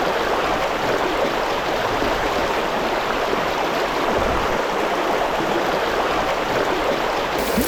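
A river at a Vancouver Island campsite rushes steadily, a loud, continuous broadband hiss of flowing water with no breaks and no voices.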